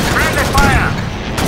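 Alien gunfire rattles in the video game Alien Swarm, a rapid, close burst of shots mixed with other combat noise, with a voice shouting over it.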